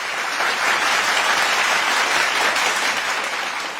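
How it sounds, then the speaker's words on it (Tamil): An audience claps steadily together for six government-school students who passed an exam. The applause is dense and even, fills the whole stretch at a strong level, and has no voices over it. "அவர்களுக்கு நல்ல கைத்தட்டல கொடுக்கலாம்"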